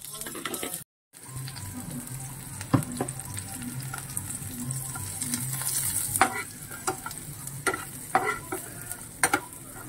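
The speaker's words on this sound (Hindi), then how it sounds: "क्योंकि थोड़ा मिर्ची को फ्राई करेंगे।" Chillies fry in a pan under a steady sizzle, with a brief dropout early on, then repeated clicks and scrapes of stirring and some faint background voices.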